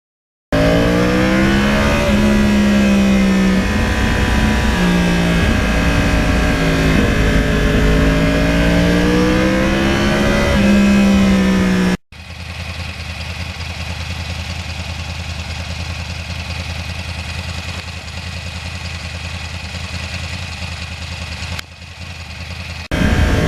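A loud Yamaha R1 crossplane sportbike exhaust revs and drones with rising and falling pitch, then cuts to a steady, lower exhaust rumble that continues to the end.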